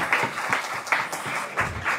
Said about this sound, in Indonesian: Tepuk tangannya mana sih?